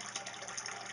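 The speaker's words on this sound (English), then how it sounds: "which way the water turns when the sink drains" Water drains from a hotel sink south of the equator, a steady soft rushing and gurgling with faint splashy detail, quiet and continuous without any talking.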